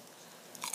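Homemade pickled leaves of a Korean herb are bitten and chewed up close, giving a few short, crisp crunches toward the end after a quiet start.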